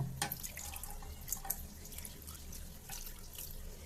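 Tap water runs and splashes steadily while shampoo is rinsed off a cat, with faint drips and small splashes, fairly quiet and close, with no talking.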